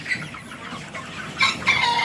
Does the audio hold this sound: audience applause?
no